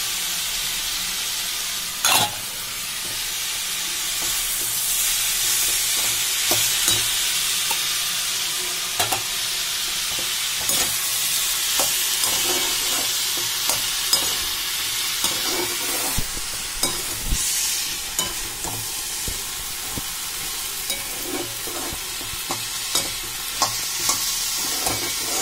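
Chopped tomato and capsicum sautéing in a pan for paneer bhurji, a steady close sizzle and hiss broken by scattered clicks and scrapes of stirring, continuing throughout with no voices.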